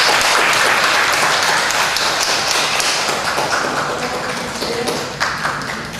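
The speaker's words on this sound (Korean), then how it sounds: "박수 한번 하겠습니다." Church congregation applauding during a Sunday worship service, a loud continuous patter of many hands that gradually thins near the end, with a few sharper claps standing out.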